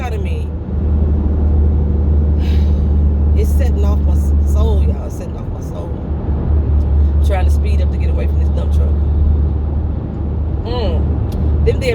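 A dump truck passes on a highway with a heavy, continuous engine rumble and road roar close by, while a person talks over it.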